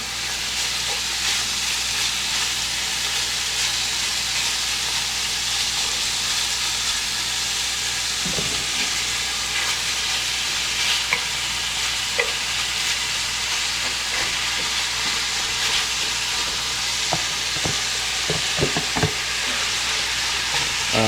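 Garlic and onions sizzle in a pan while pozole verde is being prepared, a loud, steady hiss that runs throughout, with a few faint clicks of stirring near the end.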